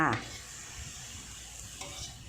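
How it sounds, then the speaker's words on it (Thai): Pumpkin shoots and minced pork stir-fried in a pan give a quiet, soft sizzle with a brief clatter at the start and light stirring scrapes, close up and with no talking. "ผัดคลุกเคล้าให้เข้ากันนะคะ"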